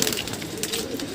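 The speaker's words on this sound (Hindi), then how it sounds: "देखिए कबूतर कितना ज़्यादा हाँप रहा है।" A pigeon coos close by in soft, repeated low throaty notes, brief and unaccompanied by talk.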